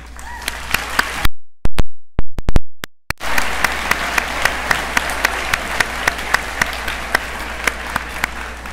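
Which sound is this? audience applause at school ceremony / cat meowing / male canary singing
audience applause at school ceremony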